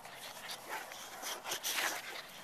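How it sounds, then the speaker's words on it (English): Puppies playing in a backyard, giving soft whimpers, yips and snuffling pants in a steady busy stream at moderate distance, with no clear talk. "You can probably hear puppies"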